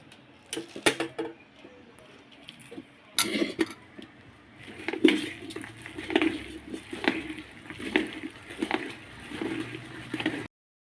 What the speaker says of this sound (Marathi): आता हे आपल्याला भांड्यामध्ये टाकून हे पुरण बारीक वाटून घ्यायचं आहे